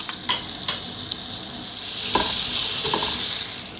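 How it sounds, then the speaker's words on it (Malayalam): Crushed ginger, green chili and garlic sautéing in a pan over low heat, with steady close sizzling that swells midway, plus a few sharp stirring scrapes and clinks of a spoon against the pan; no voices. "ഇതിലേക്ക് നമ്മൾ ചതച്ച് വെച്ചിരിക്കുന്ന ഇഞ്ചി, പച്ചമുളക്, വെളുത്തുള്ളി അതിലേക്ക് ചേർത്ത് നന്നായിട്ട് വഴറ്റിയെടുക്കണം"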